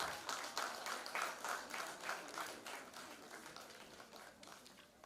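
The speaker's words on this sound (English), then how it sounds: "Let's give a warm round of applause to all our winners from both the tracks." Hackathon award ceremony audience claps for the winners of both tracks, a lively burst of many hands clapping with rhythmic bunched patches that gradually fades, moderately distant and alone without speech.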